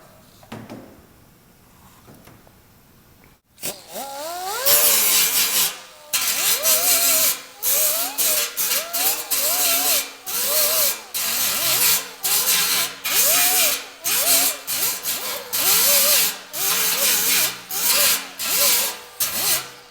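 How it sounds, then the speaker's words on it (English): A grinder works over welded studs on a dented car body panel, starting after a quiet lead-in and then running in repeated short bursts of high whirring and scraping against the metal, close and loud. "you want to concentrate on grinding just on where the studs were"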